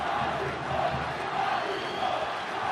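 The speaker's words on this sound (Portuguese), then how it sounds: "Torcida do Botafogo grita Ayrton" Botafogo fans in a football stadium chant a player's name, Ayrton, during a Vasco–Botafogo Campeonato Carioca match; a rhythmic, swelling crowd chant repeats in waves beneath a constant roar, distant and filling the stands.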